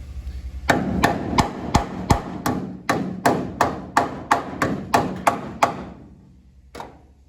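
A hammer strikes sheet metal on a 1966 Ford Mustang in a steady series of about fifteen sharp, ringing taps, close and fairly loud, then pauses before one last lighter tap.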